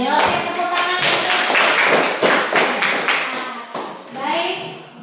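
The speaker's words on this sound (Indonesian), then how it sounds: "Oke, tepuk tangan." A classroom of children claps hands together, a dense burst of overlapping claps with taps and thumps that fades toward the end, mixed with young voices.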